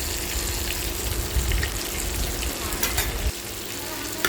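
Dried fish and garlic cloves sizzle and fry in an oil-filled pan, a steady close crackle with occasional stirring scrapes and a brief running-water sound midway, without talk.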